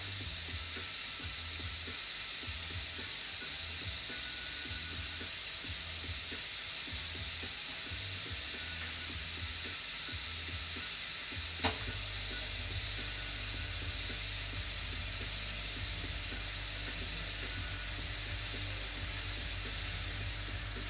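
An airbrush sprays paint with a steady, bright hiss that runs without a break, quiet and close. A short click comes partway through, and a low hum sits underneath.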